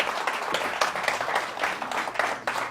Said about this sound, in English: Everybody give Jim a big round of applause